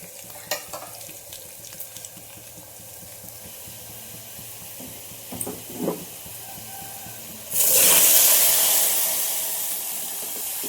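Whole spices tempering in hot oil for a raw mango dal, a low steady sizzle with small pops, then a sudden loud surge of hissing steam that slowly fades.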